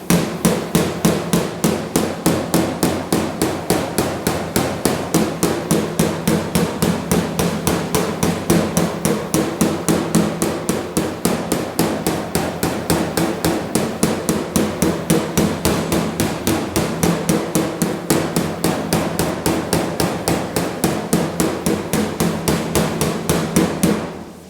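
A homemade slapping spoon strikes a car quarter panel on a GTO restomod over and over, sharp metallic blows in a fast, steady rhythm, close and loud for the whole stretch with no pause.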